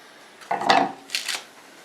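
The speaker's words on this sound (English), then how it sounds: "Best thing for chopping is an ulu knife." Salad vegetables being chopped with an ulu knife in a home kitchen in Alaska, two short bursts of blade scraping and thudding on a board, close and moderately loud with no talk.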